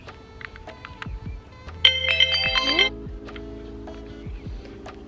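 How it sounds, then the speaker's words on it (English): A phone timer alarm rings as a short, bright electronic melody of stacked tones for about a second, loud over a quiet room, with faint speech before and after it. "That was my timer."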